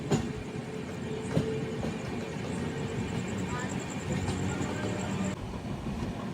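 The Charlapalli to Kakinada Town Special Express, train 07448, runs with a steady rumbling roar from inside, a few faint clacks, and a continuous high whine.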